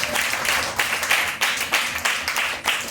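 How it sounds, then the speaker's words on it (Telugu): A church congregation claps loudly in a dense burst of applause, with rhythmic swells of many hands sounding close and full throughout. "గట్టి చప్పట్లు కొట్టాం"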